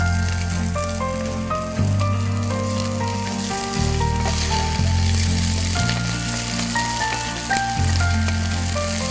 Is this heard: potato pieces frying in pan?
yes